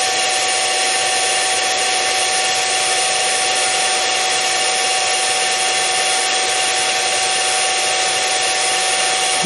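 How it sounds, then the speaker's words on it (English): A milling machine taking a 50-thousandths cut gives a continuous loud, steady high-pitched whine and cutting hiss that stays unchanged for the whole stretch, with no talking. "because of this mill, I'm only taking 50 thousandths of a cut"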